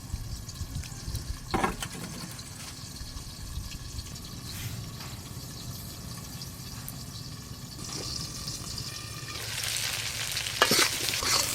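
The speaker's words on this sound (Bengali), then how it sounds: "এদিকে কচুগুলো ভাজা হতে থাক" Taro pieces fry in a pan with a steady low sizzle, broken by occasional stirring scrapes and clatter that grow louder toward the end, with no talking.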